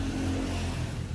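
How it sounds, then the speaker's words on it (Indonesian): A Yamaha Mio motorbike fitted with a Hitech racing exhaust revs close by, giving a loud, steady, raspy engine drone through the short burst. "Hari ini gue mau sepil knalpot hitech."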